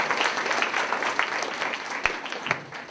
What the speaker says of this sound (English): Let's give a big round of applause for Ms. Burke.